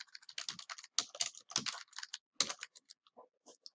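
Quick, uneven keystrokes on a computer keyboard, close and crisp, coming in bursts of clicks with short pauses between words.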